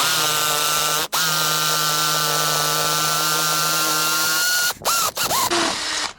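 A power drill bores a hole using a 16mm DeWalt bit, running at a steady high-pitched whine for several seconds after a brief stall, then stopping and restarting in short bursts near the end.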